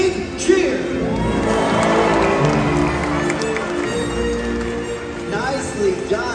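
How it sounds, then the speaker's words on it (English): A stadium crowd cheers, whoops and shouts for an orca at a SeaWorld Orlando marine park show, a loud continuous roar with children's voices mixed in. "let's give her a great big cheer"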